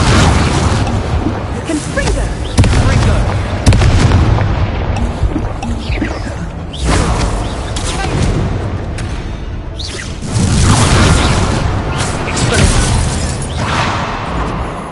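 Booming spell blasts from the Confringo blasting curse in Hogwarts Legacy, loud and dense, with several heavy bursts and whooshes rolling through a busy game battle, voices mixed in.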